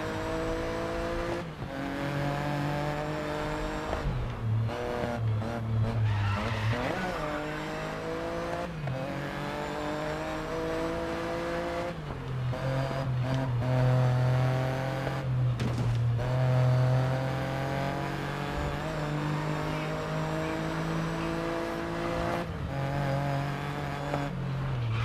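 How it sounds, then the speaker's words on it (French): Race car in the racing video game GRID Legends, its engine revving loudly and continuously with gear-shift dips, repeated tire skids as the car slides through corners, close and constant throughout. "Faut faire attention parce qu'elle glisse vraiment très fort cette voiture."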